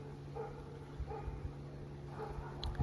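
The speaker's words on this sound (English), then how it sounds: "there's a dog barking in the background" A dog barks faintly in the distance at a lake in summer, with a few soft, scattered barks over a low, steady background hum.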